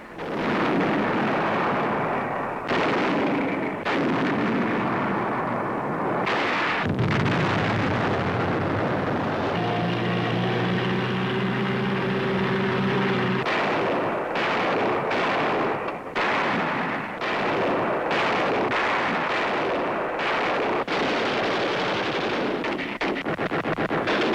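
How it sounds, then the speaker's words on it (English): Battlefield gunfire and artillery from 1944 Allied forces fighting Japanese troops in Burma's Mogong Valley, a dense, continuous barrage of loud bursts and rapid shots with repeated sharp cracks, heard through old newsreel-quality sound without speech. "Now, less than 100 miles from China, they open fire on the enemy."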